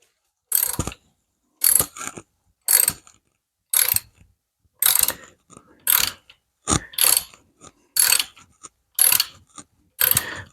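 A hand rivet nut tool pulls a rivet nut into sheet metal, making a series of about ten sharp ratcheting clicks and crunches at an even rhythm, loud and close with quiet gaps between strokes.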